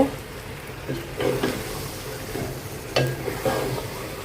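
Food in a pan gets stirred on the stove for a home-cooked meal, a few scraping, clattering strokes over a faint sizzle, brief and moderately close, with no talking.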